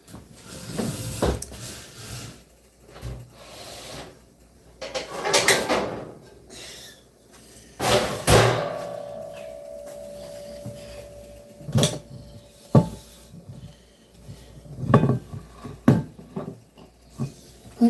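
Cupboard doors and pans clatter in a home kitchen while a skillet is fetched, a series of sharp knocks, bumps and metallic clanks spaced apart with quiet gaps and one lingering ring.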